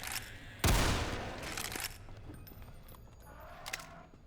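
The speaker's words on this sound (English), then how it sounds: "Oh, that was a flashbang." A flashbang grenade goes off in a Half-Life 2 mod: one sudden loud blast that rings out and slowly fades, followed by quieter scattered game noises.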